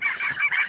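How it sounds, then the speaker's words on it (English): Seagulls squawk in a quick run of harsh, nasal calls, close and loud, several overlapping cries packed into under a second with no talk. "Attack of the birds."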